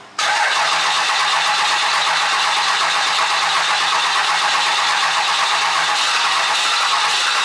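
Car engine cranking and catching, a sudden loud onset settling straight into a steady, bright, strong running roar that continues unbroken and close.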